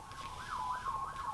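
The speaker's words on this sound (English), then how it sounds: "I hear an ambulance outside." Ambulance siren wailing outside, faint and distant, rising and falling in a smooth repeating sweep over quiet background.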